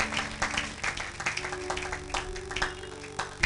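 A church congregation applauding during a sermon, a dense, steady patter of many hands clapping together for a few seconds with a faint voice underneath.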